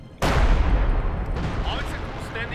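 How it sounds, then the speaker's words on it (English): A single sharp howitzer blast in Company of Heroes 2 cracks out suddenly, then a long, heavy rumble rolls on and slowly decays while faint battle noises continue. "Oh, he did build a howitzer."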